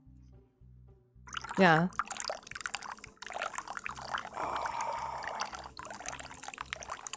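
Liquid is poured into a bowl close by, a brief trickling splash standing out between stretches of conversation that carry on around and after it.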